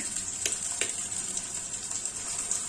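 Ingredients frying in a pan for a cabbage chorchori, with a steady hiss of sizzling oil and a couple of quick scraping stirs, close and moderately loud.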